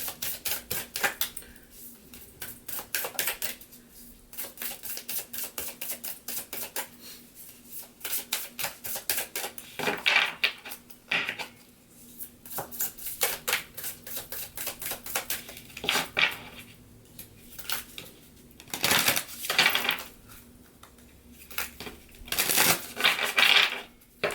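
A deck of oracle cards is shuffled and riffled at length, with rapid papery flutters and soft slaps in repeated bursts, close to the listener, and no speech over it.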